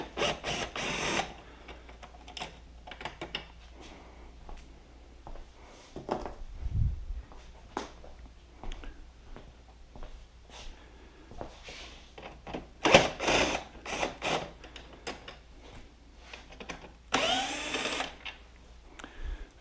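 Fasteners on the headlight shroud of a Can-Am Spyder RT being unscrewed with a T30 bit, giving a close, repeated ratcheting whir in short bursts separated by pauses, with occasional louder clicks and knocks.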